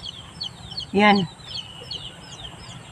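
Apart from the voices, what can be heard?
chickens clucking while eating moringa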